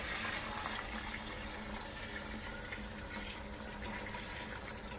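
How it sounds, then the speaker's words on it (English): Wine poured steadily into a 32-gallon Speedle plastic vat, a continuous close splashing, gurgling rush of liquid that runs unbroken the whole time with no talking. "we're going to just pour our wine"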